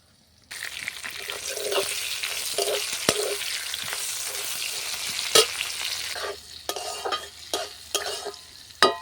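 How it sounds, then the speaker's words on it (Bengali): Bitter gourd sizzles in hot oil in a pan, a steady frying hiss broken by the scrape and clack of stirring, which grows sharper and more frequent near the end. "এরপর দেখুন করলাটাও ভাজা প্রায় হয়ে গেছে।"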